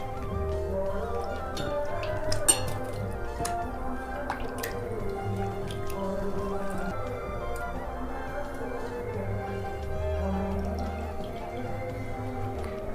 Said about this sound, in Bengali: चिंगड़ी माछटाके आमी धुए नेब।